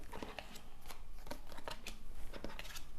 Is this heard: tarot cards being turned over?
yes